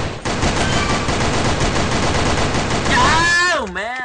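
Rapid automatic gunfire rattles continuously while shooting ducks in the game Sudden Attack, loud and dense, ending in warbling electronic sweep tones.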